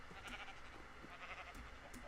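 Faint sheep bleats from Minecraft sit low under a steady hiss of background noise, a few soft calls scattered through the short stretch.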